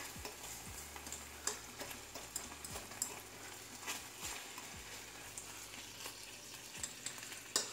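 Quiet, continuous frying sizzle with scattered crackles and pops, plus occasional scraping taps of a utensil in the pan.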